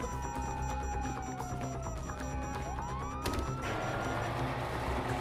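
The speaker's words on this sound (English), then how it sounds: "Hear that? Sirens!" Police sirens wail in Grand Theft Auto V gameplay, rising and falling tones sweeping under a busy game soundscape with a sharp crash partway through, at a moderate distance.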